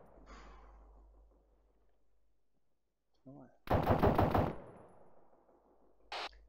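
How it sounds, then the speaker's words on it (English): Bursts of gunfire strike armor plating in a tank video game: a loud rapid rattle of impacts mid-clip, a short burst before it and a brief sharp hit near the end, with quiet gaps between. "I can see the impacts of the bullets on the plate right in front of me."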